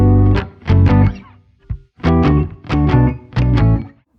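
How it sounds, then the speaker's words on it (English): Bass, keyboards and guitar play together in a tight, accented pattern of short, punchy chords in quick groups, loud and dense, with no talking. "and so the bass, keys and guitar all together sound like this."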